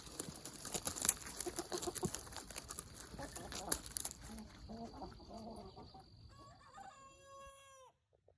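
A chicken clucks and crows inside a greenhouse garden built from reclaimed materials. The calls are fairly close over a busy background with a voice partly under them, then a few clear clucks stand alone near the end.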